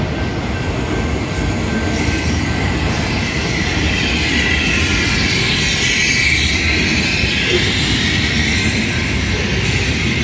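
Union Pacific 8644 inbound manifest freight train with auto rack cars rolling past at Center Street and 8th Avenue in Mesa, a loud, close, steady rumble of wheels and cars with faint squeals and no voices.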